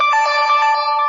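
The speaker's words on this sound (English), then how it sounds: "And that was my phone." Phone ringtone for a message notification, a loud bright electronic tone sustained for about a second, alone with no talking.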